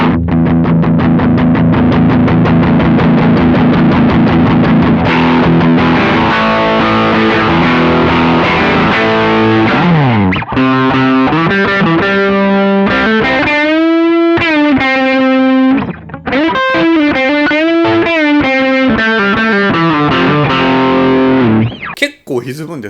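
Electric guitar played through a BOSS OD-3 overdrive pedal with the drive turned up, loud saturated chords followed by sustained, bending single-note lines with bright upper strings, ringing continuously without talk.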